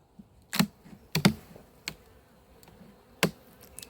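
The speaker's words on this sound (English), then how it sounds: "There's a lot of bees in here." Faint bees hum around an opened hive during a late-season colony uniting, while several sharp knocks and clicks ring out close by.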